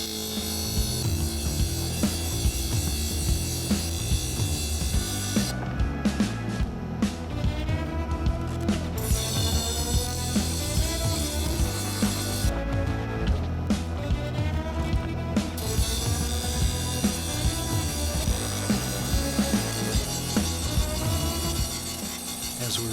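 A guitar fret slot saw blade is ground thinner on a power grinder, giving a loud, continuous abrasive whine that runs throughout with two brief bursts of harsher, brighter grinding in the middle.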